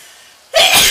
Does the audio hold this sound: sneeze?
yes